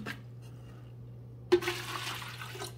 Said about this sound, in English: I'm going to pour it into the water reservoir